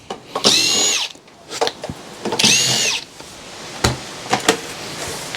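Power drill backing screws out of scrap e-waste, with two loud whirring bursts of a few seconds each, plus clicks and knocks of handling between them.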